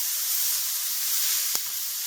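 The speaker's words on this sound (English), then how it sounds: "Let that sizzle" Chicken for low-carb breakfast tacos frying in oil in a pan, a steady close hiss of sizzle with one brief knock partway through.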